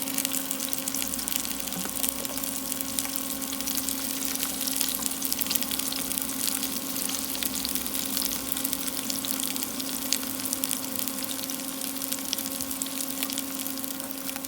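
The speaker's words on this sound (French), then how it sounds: "On va mettre nos courgettes. On va juste les faire un petit peu sauter." Round courgettes sauté in a pan with a steady, even sizzle that runs unbroken and close throughout, with no voices over it.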